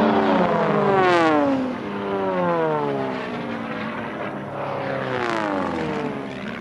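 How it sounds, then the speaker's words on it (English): Sport Class race planes roar low over a pylon at an air race. Two loud propeller passes each rise to a peak and sweep downward in pitch as the aircraft flash overhead and recede. "It's going to be great to hear them fly right over the top of our pylon cam here."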